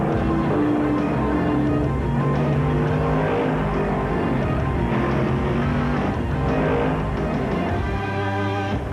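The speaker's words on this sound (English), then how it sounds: "The Miller Genuine Draft Rusty Wallace stock car is tearing up tracks everywhere." The Miller Genuine Draft Rusty Wallace stock car roars at racing speed, a dense continuous engine drone with shifting pitch and revving tones that fills the whole stretch loudly and close.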